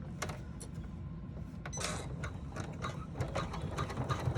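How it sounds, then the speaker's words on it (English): An embroidery machine stitches the side and bottom of an exterior zipper pouch panel in the hoop, giving a steady mechanical rattle of quick needle strokes at moderate level, close by with no talking. "now we're going to stitch just the side and bottom of the exterior panel"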